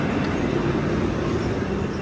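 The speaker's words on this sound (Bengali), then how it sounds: "এই যে আমি এখন উঠতেছি ট্রেনে" A continuous low rumble of a train at a platform in Milano Centrale station, steady and fairly close, fills the short stretch with no speech.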